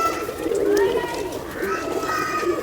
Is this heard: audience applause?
no